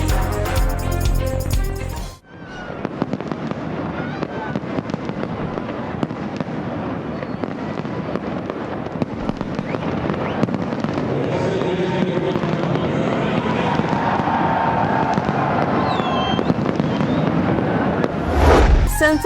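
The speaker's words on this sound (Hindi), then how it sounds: "तकरीब के इख्तिताम पर शानदार आतिशबाजी का मुजाहरा।" Fireworks crackle and pop continuously at the close of a ceremony, a dense loud barrage of bursts with a rumbling backdrop, after a brief burst of music at the start.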